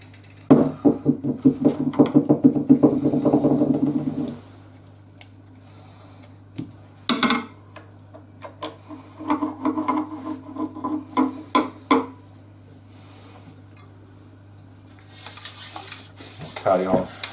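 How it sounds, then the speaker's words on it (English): Phosphorus bronze brush scrubbing the wet inside of a shotgun barrel near the forcing cone, giving close rhythmic rasping strokes in bursts with pauses between, over a steady low hum. "get the phosphorus bronze brush again."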